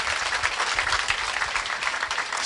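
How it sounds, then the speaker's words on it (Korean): Sustained applause from a crowd at a Korean HOPE concert supporting the normalisation of the PD Diary broadcast, many hands clapping in a dense, even roar at moderate volume with no pause. "큰 박수 주십시오."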